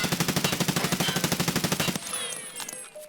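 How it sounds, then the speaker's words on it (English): A G36 rifle in Escape from Tarkov fires full auto in one fast, steady burst of about twenty close, loud shots lasting two seconds. Ringing echoes and faint clatter follow. "now this is the G36 tap, and now full auto"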